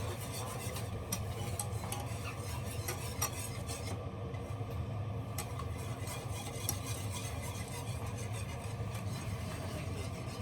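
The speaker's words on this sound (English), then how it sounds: "I'm just gonna whisk it until I add my beef broth" A whisk stirs homemade gravy in a pan on the stove, a soft, steady scraping and swishing with faint ticks, quiet and without talk.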